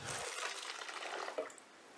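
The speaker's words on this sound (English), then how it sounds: "So I'll keep adding water until it seems like I can actually pour it into the mold." Water poured and splashing into a thick, chunky cement mix being prepared for a wood-fired pottery kiln mold, a steady broadband wash of liquid running for about two seconds with a brief drip near the end.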